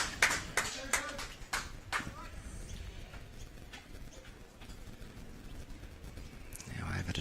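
A player clapping her hands at a women's pairs lawn bowls semi-final. A quick run of sharp claps comes near the start and then fades, and a voice talks quietly over the rest.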